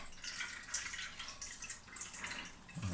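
Water from grated zucchini squeezed in a kitchen cloth drips and trickles in quiet, irregular spatters close by, with no voices.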